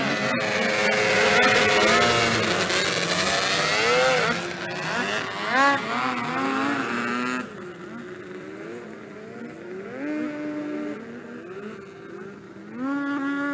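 Outlaw 600 racing snowmobiles on a rolling start, several engines whining and revving at high pitch together, loud at first then easing into varied rising and falling engine tones as they circle.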